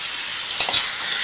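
Cut tomato pieces with turmeric fry in a pan for tomato pickle, giving a steady hissing sizzle with a brief stir near the middle, close and moderately loud.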